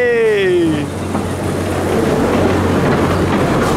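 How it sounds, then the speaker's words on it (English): Theme park trains passing at Pleasurewood Hills, a big train crossing over a small one, a steady rumbling roll with clatter, a brief high squeal near the start, close and continuous. "Big train crossing over the small train, love it"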